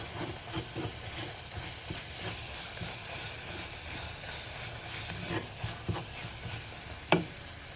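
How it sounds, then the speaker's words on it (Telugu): Gongura (sorrel leaf) chutney is stirred steadily in a pan until smooth, giving a soft continuous scraping and faint sizzle with occasional clinks of the spoon against the pan. "మెత్తగా అయ్యే వరకు కలుపుతూనే ఉండాలి"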